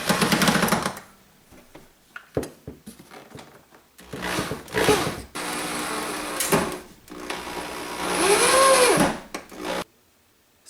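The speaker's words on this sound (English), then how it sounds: "I'm just going to go ahead and screw in my screws" Power drill driving screws into window blind brackets, with several bursts of whirring motor separated by pauses and handling noises, the longer runs ending as the screw seats.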